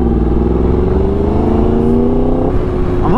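A 2016 Yamaha R1 motorcycle engine revving loudly up close, its pitch climbing steadily and then rising sharply again near the end, with no voices.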